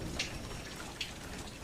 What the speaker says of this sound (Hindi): बारिश तो और भी ज्यादा तेज हो गई थी।